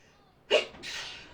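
A single short sneeze bursts out sharply and close at a tabletop game session, followed by a brief breathy hiss as it trails off.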